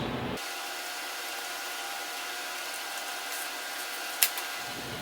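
A power tool drives screws into the holes of a radio mount in a 1967 Mustang, a steady whirring hum that runs close by for several seconds, ends with a brief click and is never joined by talk.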